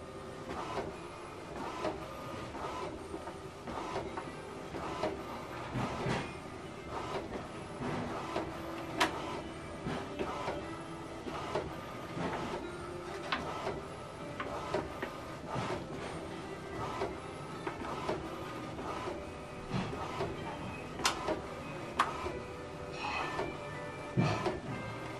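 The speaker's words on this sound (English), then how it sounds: "this is how to print photo" An HP DeskJet printer prints a photo, its mechanism whirring and clicking steadily in a continuous, fairly quiet rhythm with repeated small knocks from the paper feed.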